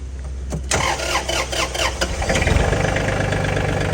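An old Japanese Iseki 23-horsepower tractor's diesel engine cranks with rapid clattering, catches, and settles into a steady rumbling idle close by.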